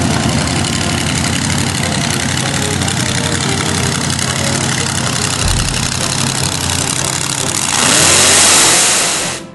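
Junior dragster race cars idle at the start line of a drag strip in Anchorage, a steady loud engine drone that swells into a rev near the end.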